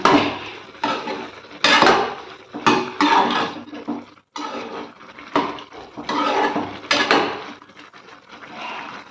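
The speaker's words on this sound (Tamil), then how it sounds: "இப்படி கலந்து விட்டுட்டு திரும்பவும் மூடி போட்டுக்கோங்க" Chicken being stirred in a cooking pot, then the lid going back on: repeated loud clatters and scrapes of metal on metal in an irregular rhythm, close by.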